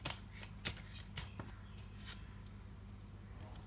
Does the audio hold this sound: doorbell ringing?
no